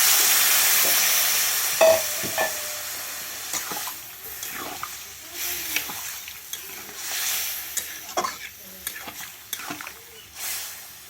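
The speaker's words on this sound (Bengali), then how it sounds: "তো আমি এবার কিন্তু এর মধ্যে দিয়ে দেব জল। জল দিয়ে দিচ্ছি।" Water is poured into sizzling spices for a no-onion, no-garlic soybean curry, starting with a loud hissing rush that fades into bubbling and scattered stirring clinks.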